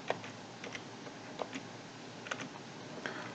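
Someone typing a password on a computer keyboard during Microsoft account setup, giving sparse light key clicks at an irregular pace against steady room hiss, with no talk.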